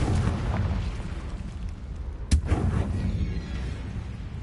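A Confringo fire-blast spell goes off in the Hogwarts Legacy video game as one sharp, loud burst, heard over steady rumbling battle ambience.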